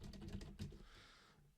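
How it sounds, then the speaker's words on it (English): Keys clatter on a computer keyboard in a quick, close burst of several taps, then trail off, quiet and alone with no voice over it. "So if we type something like that"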